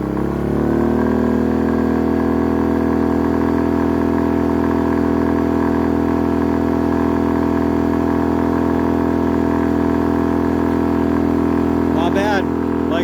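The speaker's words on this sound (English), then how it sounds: "We're right at our rated output. No load." A Pulsar PGD16ISCO 1200W inverter generator runs steadily at full load, a loud, even engine drone with a constant hum that holds unchanged throughout, ending with a brief clatter near the end.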